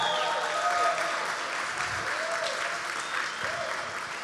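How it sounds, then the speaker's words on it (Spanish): An audience at a seminar applauds women directors in the film industry with sustained, fairly soft clapping that runs steadily from start to finish, with no voices on top. "Un aplauso para las mujeres."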